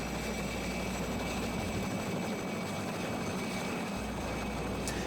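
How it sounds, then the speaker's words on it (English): A helicopter's engine and rotor drone steadily at close range during takeoff from a ship near Antarctica, a loud continuous whine and thrum with no talking. "now it's one helicopter taking off right after another"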